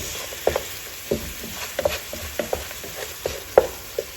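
Masala gravy sizzles in a pan for salmon fish biryani, a soft continuous frying hiss broken by repeated stirring clicks and scrapes at an uneven rhythm.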